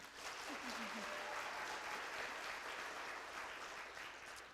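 Church congregation applauding, a steady wash of clapping that holds at an even level for several seconds and fades slightly at the end, with a brief voice near the start.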